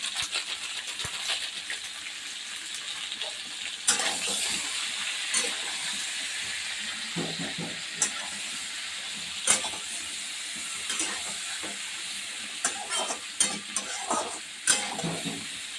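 Vegetables with turmeric fry in a pan while lunch of small bata fish curry cooks, a soft continuous sizzle broken by intermittent spatula scrapes and pops, fairly quiet and close.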